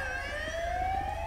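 Wailing police car siren from the video game LSPDFR, a loud continuous rising tone with harmonics that holds steady for the whole moment over a low engine rumble.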